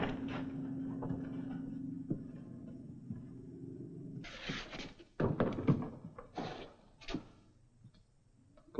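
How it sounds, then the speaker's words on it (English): A wooden door is unlatched and opened in a series of clunks, knocks and rattling taps after a low steady hum, the handling sounds close and irregular with no talk. "Just open up the door."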